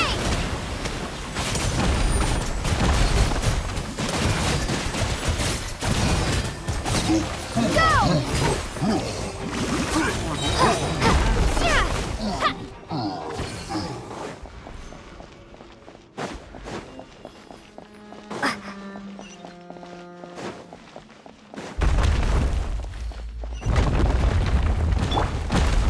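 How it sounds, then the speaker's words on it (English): Rocks tumble and crash in Genshin Impact's Fontaine region, with repeated heavy booms and rumbling impacts mixed with footsteps and game effects; the activity thins out midway, leaving sparser tones, before the crashing swells again at the end. "There are rocks falling over here!"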